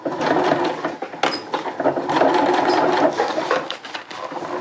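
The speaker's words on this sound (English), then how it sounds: "And we'll just sew around the cuff." A sewing machine stitches around the cuff of homemade rain overmitts, a close, busy mechanical whirring in several bursts with brief pauses between runs.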